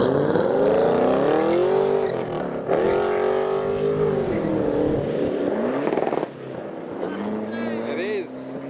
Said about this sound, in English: We've got a VXR8 making some V8 noises.